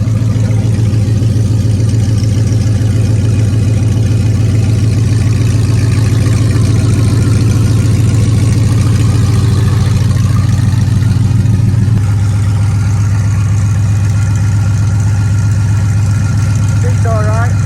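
A Toyota 1UZFE 4.0 V8 fitted in a Ford Thames 400e idles with no exhaust, the open headers giving a loud, steady, deep throb close by that holds level throughout and drops slightly in pitch about two-thirds through.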